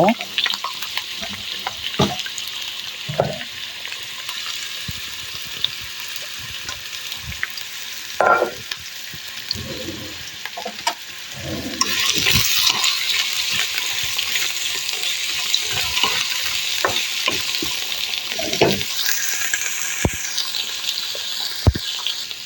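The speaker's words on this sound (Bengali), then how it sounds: "আমি একটু হালকা ভেজে নিব" Bitter gourd, potatoes and ginger frying in a pan with continuous sizzle and repeated spatula scrapes and clinks, the hiss growing louder midway.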